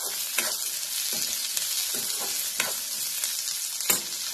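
Ingredients are stirred and lightly roasted in a hot pan, a close steady sizzle broken by repeated scraping strokes of a spoon about every half second, with no voices.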